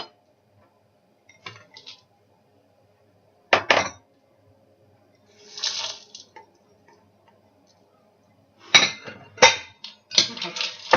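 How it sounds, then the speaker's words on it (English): Dry granola ingredients for a date and ginger granola tipped into a mixing bowl, heard as several separate bursts of rattling, clinking pours with quiet pauses between them, close and fairly crisp. "chuck everything into my bowl"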